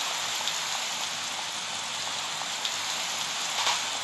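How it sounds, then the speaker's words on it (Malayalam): Steady rain falls outdoors, a continuous even hiss of drops with a few faint, slightly louder patters and no voices. "മഴയും പെയ്യാൻ തുടങ്ങി."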